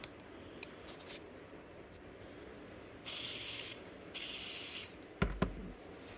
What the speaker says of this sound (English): just spray a little bit of spray tack on.